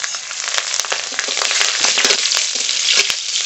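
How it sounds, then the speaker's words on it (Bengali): Black cumin seeds and slit green chillies hit hot oil as a tempering for a fish curry, giving a loud, continuous crackling sizzle with sharp pops scattered throughout and no talking. "মাছের ঝোলের জন্য ফোড়ন করে নেব। ফোড়নে কালো জিরে"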